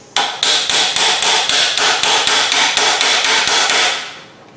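A small 4-ounce hammer taps a ball joint on a Ford F-250 truck, about thirteen sharp metallic strikes in a quick even rhythm, close and loud, ringing briefly before fading out.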